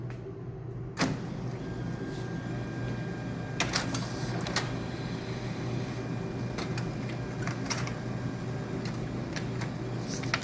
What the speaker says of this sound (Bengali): আমি প্রিন্ট কমান্ড দিলাম পিসি থেকে, এখন দেখি কি আসে।